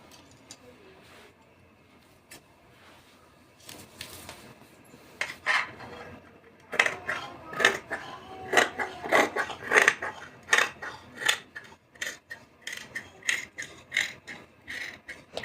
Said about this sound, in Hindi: अब मैं इसकी कटिंग कर लेती हूँ।